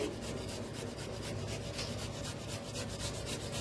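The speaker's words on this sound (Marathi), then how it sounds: "असेच दोन्ही बटाटू किसून घेते।" Two potatoes being grated by hand, a steady close-up scraping rasp that keeps going at an even pace without pauses.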